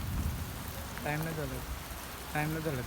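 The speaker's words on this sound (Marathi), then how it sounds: "पाऊस पण आला आहे" Rain falling at a temple makes a steady, close hiss throughout, with voices speaking briefly over it twice.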